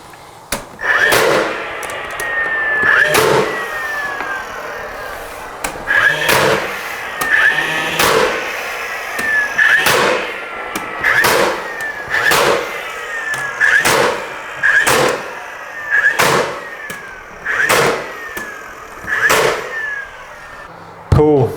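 A nail gun fires repeatedly while accent wall panels are installed in finish carpentry, sharp loud pops arriving roughly once a second across the span, each followed by a brief mechanical ring.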